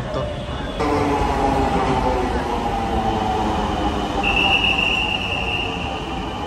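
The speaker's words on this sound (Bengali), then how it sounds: "মেট্রো রেল চলে এলো" A Dhaka MRT Line-1 metro train pulls into the station with a loud, steady rumble of wheels and motors, and a high squeal of wheels rises partway through. A voice speaks briefly over the noise.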